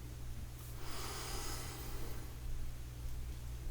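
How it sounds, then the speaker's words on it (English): A slow, deep breath drawn in and let back out during a guided spiritual meditation, a soft airy rush that swells and fades, close and alone. "I invite you now to take a deep breath with me"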